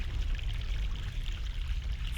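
Fresh mountain water flows in The Longest Journey as a steady, continuous rushing pour that stays close and fairly loud with no break, and no voice is heard over it.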